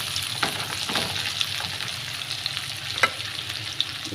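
Pounded ginger-garlic paste frying in a pan with curry leaves for an egg and drumstick curry, giving a constant, close crackling sizzle with a few brief spatula scrapes.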